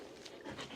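A dog, a working rescue dog, pants quickly and close up in a brief, soft burst of breathy huffs.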